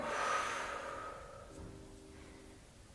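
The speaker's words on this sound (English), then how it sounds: "Nice deep breath. Breathe out." A long, deep exhale through the nose during a workout cool-down, starting strong and breathy and tapering off over a couple of seconds, close and alone.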